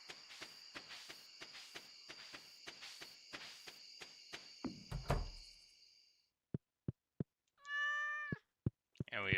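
Cat meows in Stardew Valley, a short, clear wavering meow standing out against chirping crickets and quick footstep ticks, with sparse clicks around it.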